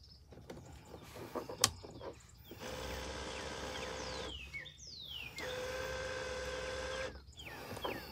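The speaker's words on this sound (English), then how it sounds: "how loud the motor is in these mirrors" Two long, steady whirring runs of a YITAMOTOR power tow mirror motor on a pickup, each buzzing for about two seconds, with quiet pauses and faint birdsong between them.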